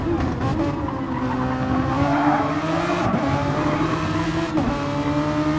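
A race car engine in a racing video game, short shifting hard down a straight, its harmonic drone stepping through rapid gear changes with brief dips, accompanied by light tire squeal, steady and close throughout.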